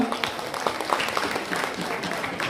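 An audience at a Mumbai medical college and hospital centenary event applauds Kalpana Gajula, general secretary of the Global Nursing Union, with dense, lively clapping under a speaker's voice.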